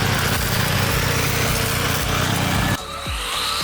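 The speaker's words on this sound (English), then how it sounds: "The high-speed blade at the bottom can complete large area weeding work in a few minutes" A remote-controlled tracked lawn mower with a high-speed blade cutting weeds, a loud continuous engine and blade roar that drops abruptly near the end, then resumes more quietly.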